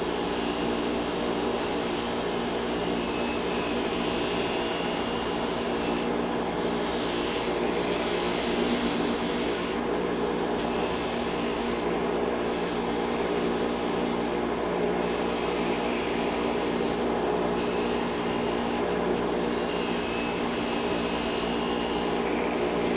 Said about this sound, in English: we're going to demonstrate one side using the wire wheel